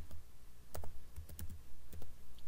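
Keys click on a computer keyboard as a command is typed into a command prompt: a short burst of quick, close, sharp taps with brief pauses, no talking.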